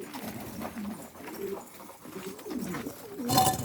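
Soft, repeated cooing of Istanbul breed pigeons nearby, rising and falling in low murmurs, with a brief rustle of wings or movement near the end.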